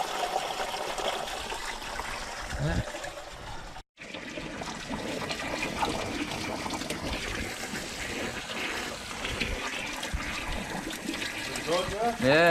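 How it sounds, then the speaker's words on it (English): Coolant flushing out of a car engine with clean water, a steady splashing, trickling pour that runs near and fairly loud throughout, briefly cut off once, while people talk over it. "Good clean water coming out."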